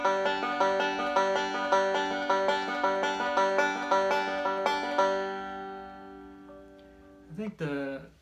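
Banjo playing a Scruggs-style reverse roll on the first three strings at speed, a fast, continuous stream of bright plucked notes that rings out and fades, followed by a short burst of speech.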